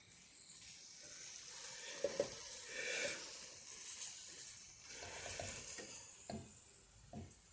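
Soft, steady sizzling and crackling of fish frying and being basted in a pan, with occasional faint clinks and stirring noises, no voices.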